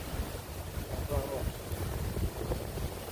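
Strong typhoon wind buffets the microphone with a loud, steady roar and gusting rumble outdoors during a storm, continuous throughout with no voices.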